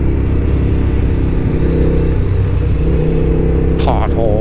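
Suzuki TL1000R motorcycle engine running while ridden, a loud steady droning rumble buried in strong wind noise, with a short voice near the end.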